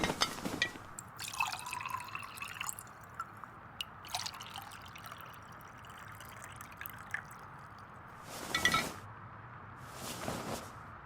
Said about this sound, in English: Pour us another round.